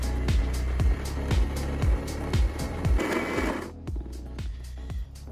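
Coffee grinder set to coarse, grinding beans for cold brew, gives a steady run of rhythmic crunching strokes, roughly two per second, close and fairly loud for about four seconds before thinning out at the end.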